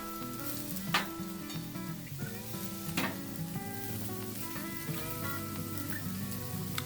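Peppers fry in butter on a flat-top griddle, a steady soft sizzle with occasional brighter spits and pops, close up and fairly quiet with no speech.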